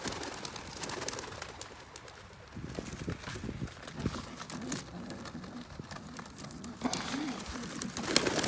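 Racing pigeons are released for a toss, 50 birds at 30 miles out on a Saturday morning. Scattered wing flaps and soft coos rise over open-air noise, busy and close throughout.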